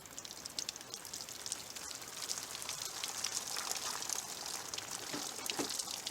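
Water leaks steadily from a bullet-damaged plastic jug, a faint continuous trickle and patter of drips with no voices.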